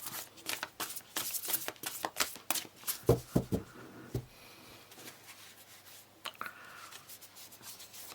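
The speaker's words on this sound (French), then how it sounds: "je vais extraire 7 cartes en commençant par le premier choix, la pierre marron" Tarot cards being shuffled and drawn by hand, with a quick run of crisp riffling flicks and papery slaps followed by a few softer card placements and rustles, close and fairly quiet.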